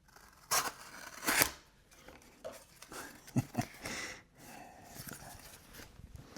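A razor-sharp Benchmade 945 knife with an S90V steel blade cuts into a paper towel. Crisp slicing and ripping bursts sound up close, with two strong strokes early on and softer scraping and handling afterward. No one speaks.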